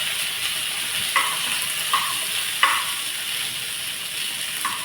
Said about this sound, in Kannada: ಬೆಳ್ಳುಳ್ಳಿ, ಶುಂಠಿ, ಒಂದು ಹಸಿಮೆಣಸು, ಇದೆಲ್ಲ ಒಮ್ಮೆ ಫ್ರೈ ಆಗಲಿ